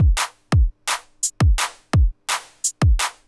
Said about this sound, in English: And together the drums sound like this.